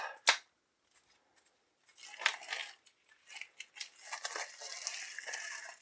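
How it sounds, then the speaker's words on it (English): Shrink wrap being sliced and peeled off board game tile sets, heard as a sharp crisp crackle at the start, then after a quiet pause a burst of crinkling and a long stretch of rustling, tearing plastic. "let's unshrink wrap these tile sets. Slice it down the side"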